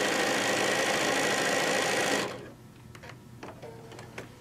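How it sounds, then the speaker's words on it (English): A sewing machine hums loudly and steadily while stitching down a quarter-inch quilt seam, stopping abruptly after about two seconds, followed by quiet clicks and handling sounds. "we're going to stitch down"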